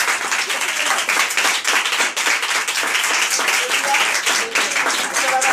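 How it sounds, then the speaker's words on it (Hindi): A church congregation claps loudly and steadily at a Christmas service, a dense wash of many hands filling the space close by with no pauses. "जोर से ताली बजाओ।"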